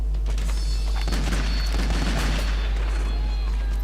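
A gunshot in Metal Gear Solid 2 on PC: a heavy boom after about a second, rolling into a loud, sustained rumbling echo over a constant low game drone.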